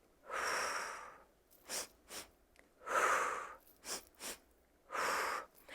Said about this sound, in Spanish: inhalas por la nariz y en ese tiempo exhalas por la boca con tu mano en el estómago